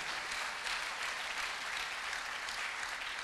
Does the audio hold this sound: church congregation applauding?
yes